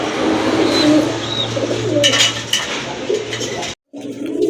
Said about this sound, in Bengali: সুন্দর আছে কবুতরগুলো